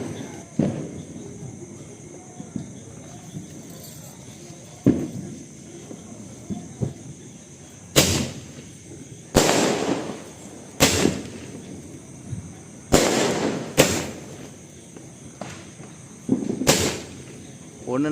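A 30-shot Diwali firecracker bursts in a rapid, irregular series of sharp bangs and cracks, loud and fairly close, with quieter crackles and faint background sounds between the blasts.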